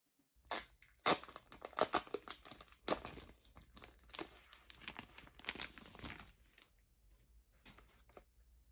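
Crinkling and tearing of plastic wrap and packaging as a limited edition Sakurazaka46 Addiction CD is unboxed, a close series of sharp rustles and rips in bursts, then quieter handling toward the end.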